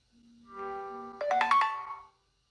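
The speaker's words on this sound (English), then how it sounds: "And charging sound when charger connect" A Duoqin F22 phone chimes as its charger connects: a bright electronic ding that starts with a held tone, then rises into a brighter ringing tone, all alone and close.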